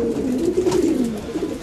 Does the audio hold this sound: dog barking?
no